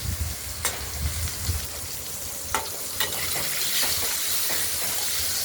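Ripe pointed gourds, each cut in half, fry in a pan with a continuous close sizzle and hiss, broken by several sharp clicks and scrapes of turning, with no voices.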